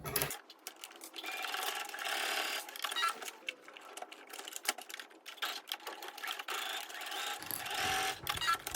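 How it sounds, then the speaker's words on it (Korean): A sewing machine stitches fabric lining in a long, steady run of rapid needle chatter, close but fairly quiet, with no talking. "약 1cm 간격으로 쭉 재봉해 줄게요."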